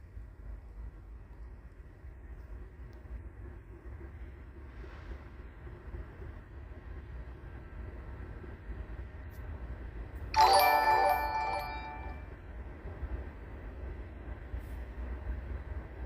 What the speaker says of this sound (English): There goes the choo-choo train.